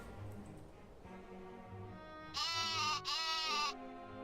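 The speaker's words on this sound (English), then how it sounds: "The other sheepy." Two loud, harmonic sheep bleats from a farming video game, the second following a brief pause after the first, heard over a quiet background of game ambience.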